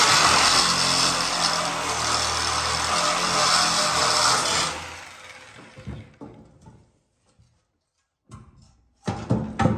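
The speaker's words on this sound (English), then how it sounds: "I gotta cut this whole front corner right here." A power tool cuts through the front corner of an old RV trailer with a loud, continuous buzzing roar for several seconds. It then stops, followed by scattered clunks and a short final burst.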